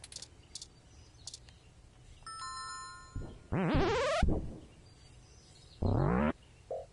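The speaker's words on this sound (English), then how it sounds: "Maybe we should ring the bell first?" A doorbell rings in the video game 2064: Read Only Memories, a short chime followed by two loud rising electronic tones with a pause between them, heard over quiet game ambience.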